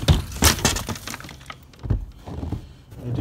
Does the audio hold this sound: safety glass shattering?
yes